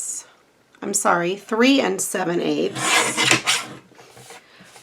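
Someone talks while trimming cardstock for a Dollar Tree Valentine card; a short, scratchy slicing rasp follows her words, close and fairly loud.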